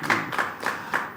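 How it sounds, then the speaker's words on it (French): Women clapping in the background at a church praise gathering, four distinct claps at a steady slow rhythm, fairly faint and somewhat distant. "je pense qu'on peut juste entendre les acclamations des mamans qui sont derrière là-bas"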